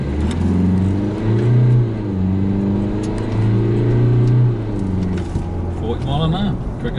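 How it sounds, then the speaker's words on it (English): A 2021 Isuzu D-Max pickup, its bed loaded with 800 kg of sand, pulls away from a standing start with the engine revving up through rising gears, a brief lift between shifts, and a voice speaking near the end. "The bed is loaded with 800 kilos of sand. Standing start, takeoff, see what it does again."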